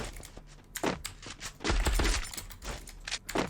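Gunfire in the Free Fire video game comes as short bursts of sharp shots, mixed with heavy thuds and a loud impact, all close and punchy within busy game audio.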